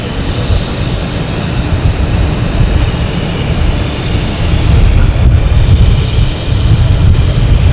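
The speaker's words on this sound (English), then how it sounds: "We have a Delta coming in, A321neo coming in from Salt Lake City, flight 657." Airliner at Boston Logan Airport, a loud, continuous low engine roar that swells slightly midway as the aircraft passes nearby, with no talk.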